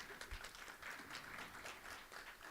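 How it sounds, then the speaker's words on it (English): Faint, sustained applause from an audience at a Palestine convention session, dense overlapping clapping heard from a distance without a break. "please give her a round of applause"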